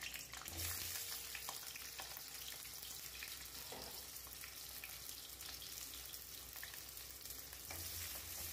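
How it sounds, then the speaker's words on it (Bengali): Cut potatoes frying in mustard oil in a kadai, a continuous close crackling sizzle with occasional scraping stirs, steady and fairly quiet throughout. "আলুগুলোকে লাল লাল করে ভেজে নেব"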